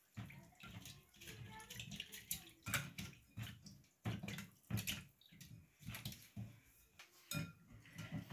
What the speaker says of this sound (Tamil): இதை வந்து கட்டி இல்லாமல் நல்ல வடிவாக மிக்ஸ் பண்ணி விடுவோம்